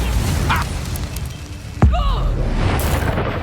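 In Hogwarts Legacy, a Confringo blast spell explodes with a sharp low boom amid ongoing game combat noise and rumble, followed by whooshing sweeps and continued background din.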